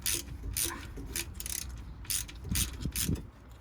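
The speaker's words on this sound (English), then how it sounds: "This last one will need more tightening because I can't get that tight with my fingers." A ratchet tightens the bolts on the cylinder head of a Ford Fiesta Mk6, with rapid bursts of close, crisp clicking that come in short repeated strokes.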